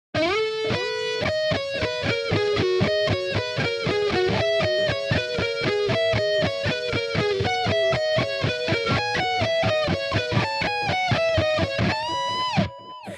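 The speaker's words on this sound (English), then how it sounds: "So that second harmony guitar sounds like this." A distorted electric guitar plays the fast, harmonized lead line from a song's solo, rapid picked notes in layered parts, ending with a sustained bend.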